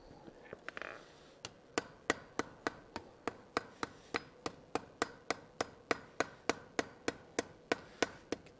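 Steady, evenly spaced hammer blows ring on steel over an anvil while a colonial-style trivet is forged, about twenty-five crisp metallic strikes in a brisk regular rhythm, close and clear after a brief quieter start.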